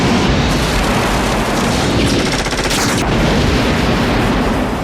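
Gunfire from a scene in the 1988 movie They Live: a loud, dense burst of rapid shots, with a rattling machine-gun stretch in the middle, filling the whole moment with no talking.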